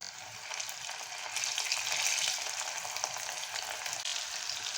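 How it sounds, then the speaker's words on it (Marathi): Cauliflower manchurian deep-frying in hot oil over high heat, a dense continuous crackling sizzle that swells slightly in the middle, close and fairly loud. "फास्ट गॅसवरती आपल्याला हे तळून काढायचं आहे"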